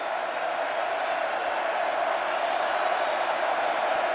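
Football stadium crowd at a Texas Longhorns vs Baylor Bears game on a cold night, a steady broad roar of cheering voices that holds evenly throughout without a break.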